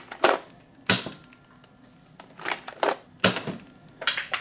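Sharp, dry pops come from an Air Warriors Equalizer toy blaster firing at targets. About six quick shots and impacts arrive in an uneven rhythm, close and fairly quiet, with no talking.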